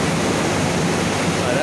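Make-up water pours into an air conditioning cooling tower, producing a loud, steady, close rushing and splashing roar with no breaks.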